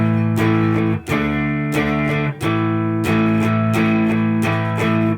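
Distorted electric guitar strums the closing phrase of a song, loud chugging chords in a steady rhythm with brief gaps between strummed groups, played alone.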